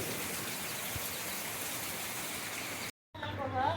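Steady, dense monsoon rain hissing close by for a few seconds, then a sudden cut to silence and a quieter background.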